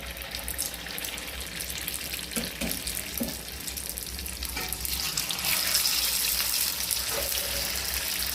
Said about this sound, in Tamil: அதில் வந்து இப்போ பணியாரத்தை ஊற்றுவோம்